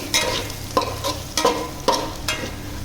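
Egg biryani ingredients with boiled eggs and large potato chunks are stirred and folded in a pot, giving four distinct scraping strokes with a soft sizzle underneath, close and moderately loud, with no talking.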